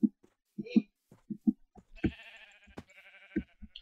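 Minecraft sheep bleat in a few wavering calls, mixed with soft blocky footsteps and game thuds.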